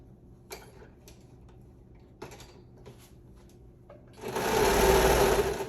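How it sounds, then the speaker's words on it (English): A sewing machine stitches through a three-layer shorts waistband with fringe, giving a few brief taps and short bursts before a loud, steady run of stitching near the end. "So I'm going to go ahead and sew this."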